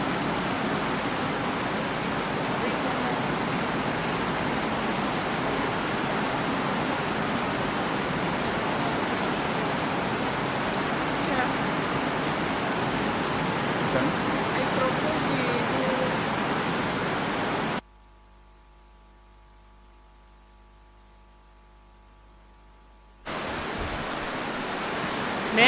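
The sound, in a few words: rain falling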